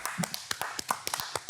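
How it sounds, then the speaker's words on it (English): A small round of applause for Lane, a handful of sharp, irregular claps from a few hands close by, sparse and brief rather than a full crowd. "Round of applause for Lane"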